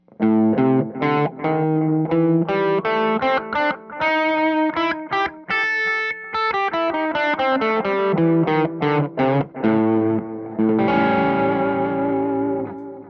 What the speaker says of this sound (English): Now we're going to add one note to that scale to form what I call the blues scale.